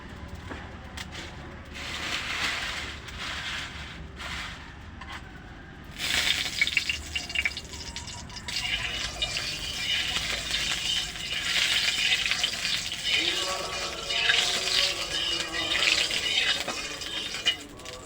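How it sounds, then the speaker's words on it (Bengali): Oil heating and then sizzling in a kadai (wok), a rattly, crackling fry that grows louder and denser partway through and continues steadily at close range. "এই দেখো তেল দিয়ে দিচ্ছি কড়াইতে।"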